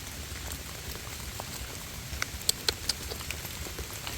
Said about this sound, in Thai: พี่น้องฝนตกตอนนี้